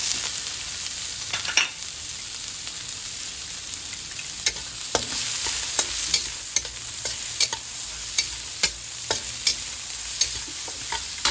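Bottle gourd sautés with canned Century Tuna in a pan, a continuous frying sizzle broken by repeated sharp scraping clicks of a spatula stirring against the pan at irregular intervals.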